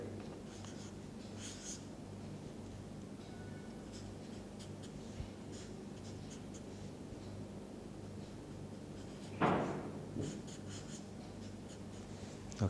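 Chalk or pen writing out the structure of SF4 during a chemistry lecture on group 16 elements, heard as faint scratchy strokes over steady room hum, with one louder scrape near the end.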